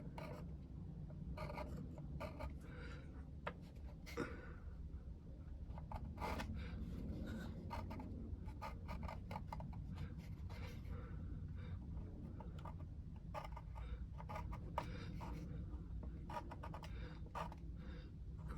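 A pencil draws lines on the first-layer deck planks of a 1:84 Artesania Latina Santisima Trinidad model ship, making repeated short, close, quiet scratchy strokes.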